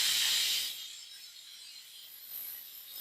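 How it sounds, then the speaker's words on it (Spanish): Steam hisses out of a pressure cooker in a strong burst, then fades to a quieter, thinner hiss that carries on to the end. "que la olla a presión expulse todo ese vapor para poder abrir"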